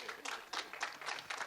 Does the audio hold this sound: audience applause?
yes